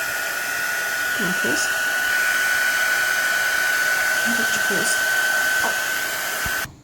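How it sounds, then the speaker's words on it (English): Heat embossing tool melting embossing powder on a card, a steady loud blowing whir that runs continuously without pause, with faint voice murmurs underneath. "You get your embossing tool again and heat it till the embossing powder melts."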